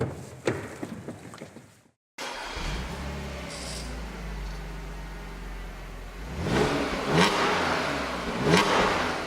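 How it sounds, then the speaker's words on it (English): A 2010 Audi S4 Prestige drives with its exhaust note building into a revving, accelerating roar after a brief cut, growing louder with gear pulls toward the end. "You can hear the exhaust note"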